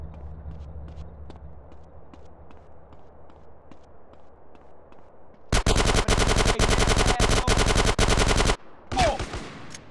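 Gunfire in GTA San Andreas, quiet rhythmic footsteps first, then a loud sustained burst of rapid automatic shots lasting about three seconds, a pause, and a short final burst.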